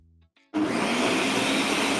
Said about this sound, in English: Take a look at what happens to the blender.